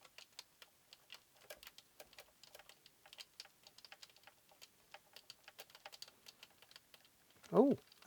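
Small plastic buttons on an Amstrad VCD3-2000 vertical CD player click repeatedly in a quick, uneven run of light, close ticks, ending in a brief louder burst.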